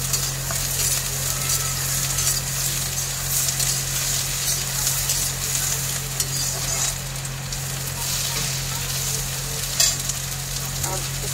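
Onion tossed into a pan of fried chillies hisses loudly, a dense, even sizzle with light stirring rattles, close and continuous, with a faint low hum underneath.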